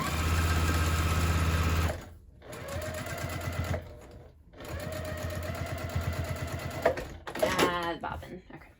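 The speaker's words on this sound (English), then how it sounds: "just another 1/8 inch basting" A sewing machine runs in quick bursts basting a handbag seam, its rapid needle chatter starting and stopping between short pauses, with a voice talking briefly near the end.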